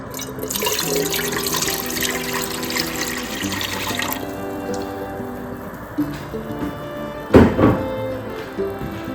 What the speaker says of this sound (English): We're going to start off with 2 cups of white vinegar and 1 cup of water.